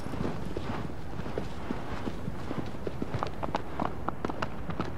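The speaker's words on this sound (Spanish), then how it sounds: "Dejando el botón de caballo corre más rápido." Hooves of a horse galloping in the Shadow of the Colossus remake video game, a steady rapid clip-clop of hoofbeats over a continuous background of wind and ambience, fairly close and clear with no talking.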